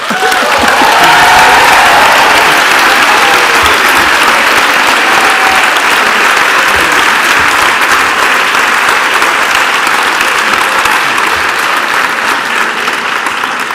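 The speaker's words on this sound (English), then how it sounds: "I think he deserves a round of applause" A large audience at a school graduation ceremony gives a teacher sustained, loud applause, a dense even wash of clapping that continues without pause for the whole stretch.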